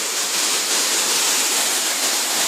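A steady, full roar of Khun Korn Waterfall in Chiang Rai, Thailand, loud and continuous, with rushing water filling the whole clip and no voices.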